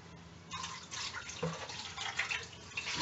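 A kitchen tap runs while cooking steamed oysters, giving a steady close stream of water that splashes and trickles, with no talk over it.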